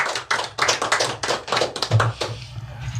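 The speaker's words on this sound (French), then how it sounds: "On applaudit Jackson" Applause for Jackson, an honoured employee of radio station Radio Télé SCOOP at a staff award ceremony, with a crowd clapping steadily and fairly close for about two seconds before it thins out.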